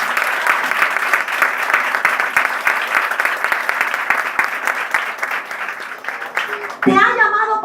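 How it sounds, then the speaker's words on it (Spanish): A church congregation breaks into loud, sustained applause, a dense wash of clapping that holds steady for several seconds before a voice comes in over the final moments. "Si lo va a aplaudir, apláudalo bien fuerte."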